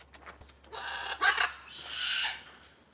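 A pet bird at an exotic animal rescue gives a couple of close, raspy squawking calls, the second longer and harsher, in a quiet room with no talking.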